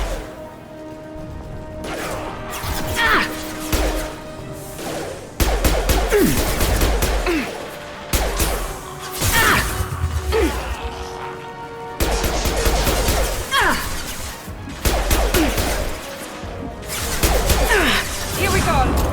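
Weapons fire in Mass Effect 2 comes as dense, loud volleys of sci-fi gunshots and impacts in repeated waves, with voices speaking through the combat.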